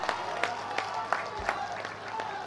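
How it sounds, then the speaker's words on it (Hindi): An audience at a highway project inauguration event in Siliguri claps, a sparse crowd whose claps fall in a loose, roughly regular beat of distinct strikes, fairly close over a faint background hum. "जोरदार तालियां हो जाए।"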